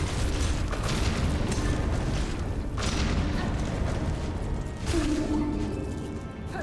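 Large enemy explosions in the video game Silksong, a loud continuous rumbling boom with crashing bursts and a sharp hit near the middle, sustained throughout.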